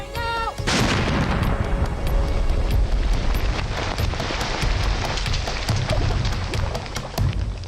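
A large IED main charge set off in a controlled detonation: one huge blast hits at once and then a long roaring rumble of debris and wind rolls on loudly, with scattered cracks and thuds layered over it.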